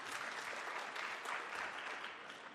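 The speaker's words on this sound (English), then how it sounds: "Absolutely, an applause for that." Audience applause at an investment manager conference, a steady dense wash of many hands clapping at moderate distance, sustained evenly throughout without letup.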